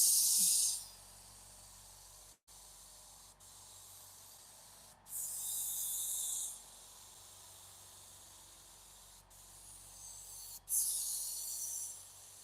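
Spray paint hisses onto a CNC machine in three separate bursts, each about one to two seconds long, close and fairly loud against a quiet room, with short clicks between passes.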